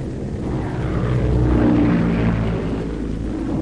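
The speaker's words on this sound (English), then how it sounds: "ATC ferries planes from factory to front" Propeller airplanes of the WW2 Air Transport Command in flight, giving a steady, full engine drone that swells slightly in the middle and holds on without any voices.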